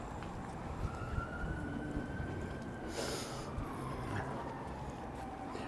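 A faint siren wails far off behind a city street walk in Dartmouth, its gliding tone rising and falling softly beneath low background rumble.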